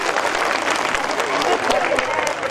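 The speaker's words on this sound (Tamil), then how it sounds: "பாராட்டுறாங்கன்னா கை தட்டணும்ல." Audience clapping fills a women's day gathering with a medical camp, a steady, dense round of hand applause from a crowd, loud and continuous throughout.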